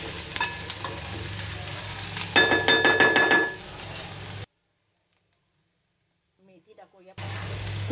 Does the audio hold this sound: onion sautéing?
yes